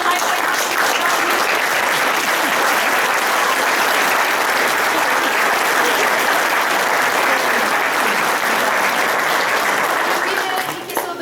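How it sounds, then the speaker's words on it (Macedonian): Warm, loud applause from an audience at a drama studio's Easter event in Struga, continuous dense clapping that holds steady for about ten seconds before tapering off at the end. "Со еден топол аплауз да го поздравиме овој човек овде"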